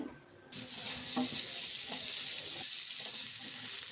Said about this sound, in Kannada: ಸ್ವಲ್ಪ ಗೋಲ್ಡನ್ ಕಲರ್ ಬರೋವರೆಗೂ ಫ್ರೈ ಮಾಡ್ಕೊಳ್ರಿ